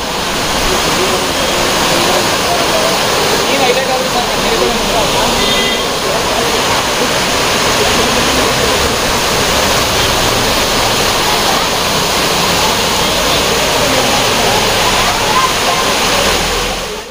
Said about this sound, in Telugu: వెళ్ళే దారిలో చిన్న వాటర్ ఫాల్స్ మనకి రోడ్డు పక్కనే ఉంటుంది